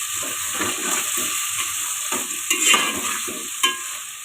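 Boiled chickpeas for chana pulao sizzle steadily in hot oil and spice paste as a spoon stirs through them, with rhythmic scraping strokes and a couple of sharper clinks close by.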